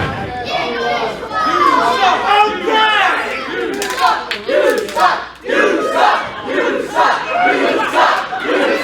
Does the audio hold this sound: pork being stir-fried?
no